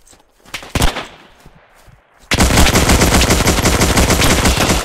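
A BAR automatic rifle in the Hell Let Loose video game opens up in a sustained, very loud, close burst of rapid fire after a couple of earlier isolated shots and quieter battlefield noise.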